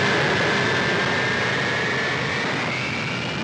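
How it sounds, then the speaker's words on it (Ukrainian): Steady, loud airplane engine roar in an animated Ukrainian cartoon as the plane lowers its landing gear, a continuous even drone with a faint rising whine and no distinct mechanical clunk. "Випускаю шасі."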